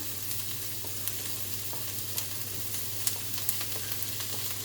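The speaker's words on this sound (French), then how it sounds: "maintenant qu'on a chauffé l'huile, je mets les oignons" Onions frying in hot oil in a pan, a steady close sizzle with faint scattered pops and crackles throughout.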